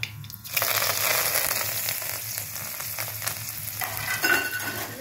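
Semolina and potato breakfast mixture fries in a pan, a steady crackling sizzle close by with a scraping stir near the end and a brief rustle at the start.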